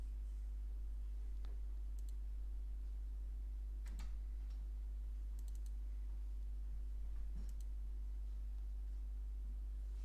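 Sparse mouse and keyboard clicks on a computer running the Unity Editor, a few faint taps spread over a steady electrical hum.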